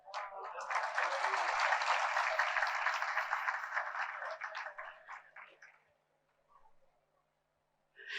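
An audience at a gathering breaks into applause, a burst of clapping that holds strongly for several seconds, then thins and fades away into near silence with a few scattered final claps.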